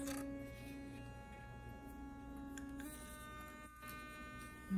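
A Wagner Plus electric toothbrush runs with a steady, faint high-pitched motor buzz and hum that holds throughout, briefly dipping near the end.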